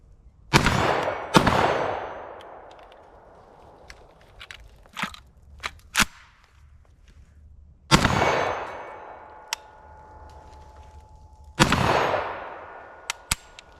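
A Fostech Origin 12 shotgun fires buckshot outdoors: loud, sharp blasts with ringing decay, one pair close together early and then single shots spaced several seconds apart, mixed with smaller clicks and clatter between them.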